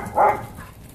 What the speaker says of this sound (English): I know there's a dog barking down the street